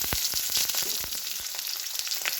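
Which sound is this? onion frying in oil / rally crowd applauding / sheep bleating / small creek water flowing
onion frying in oil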